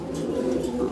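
A pair of helmet pigeons coo softly and continuously at a pigeon sale, the close, low murmuring heard beneath people talking.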